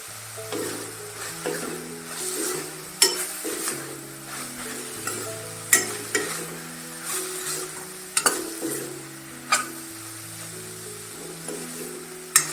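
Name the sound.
sautéing radish vegetable with grated coconut in pan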